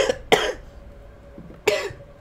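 Someone coughs in harsh, throaty bursts while laughing, two quick coughs near the start and another strong one later, close and fairly loud over a quiet room, with no speech between them.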